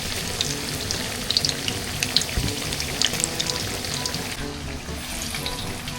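Camote cue, sweet potato chunks with sugar, fry in hot oil with a steady, soft sizzle and crackle, plus a few faint pops and clinks.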